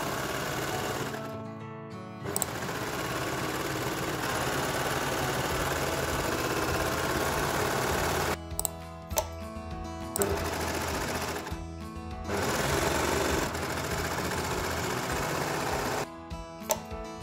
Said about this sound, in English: We are overlocking these seams, doing the same as we did on the back and side panels.